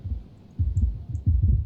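Heartbeat sound effect from the crafting video game Book of Hours: a deep, muffled, rhythmic thumping of paired beats repeating steadily and close, with no speech.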